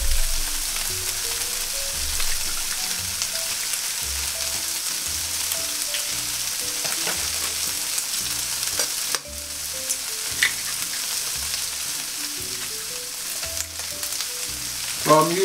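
Potatoes for a Spanish tortilla sizzle steadily in hot oil, a continuous close frying crackle with occasional stirring clatter, heard alone throughout.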